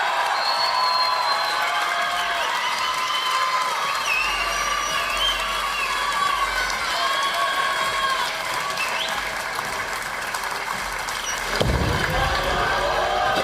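Crowd at a PBA bowling stepladder final cheering and applauding steadily for several seconds, a dense wash of clapping and voices, with a sharp thud near the end.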